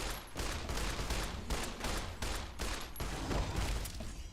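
Rapid gunfire from a 10mm pistol in Fallout: New Vegas during a fight with a deathclaw, a dense string of sharp shots in quick repeated bursts, fairly faint, with no talk.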